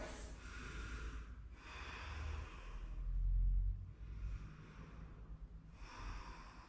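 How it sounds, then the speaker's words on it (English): Slow, deep breathing in a downward dog yoga pose, with long audible exhales and inhales in a rhythmic cycle, fairly close and quiet, with a low rumble in the middle. "Exhale, downward dog."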